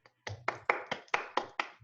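A few quick hand claps come in a brisk run of about seven, soft and close, with a faint low hum under the first ones.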